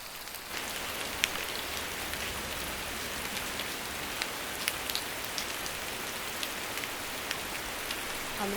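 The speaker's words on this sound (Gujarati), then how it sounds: "આ છાંટા આવ્યા." Light rain pattering steadily on surfaces for several seconds, fine drops ticking close by as a shower begins at a home where potato and onion curry is being cooked.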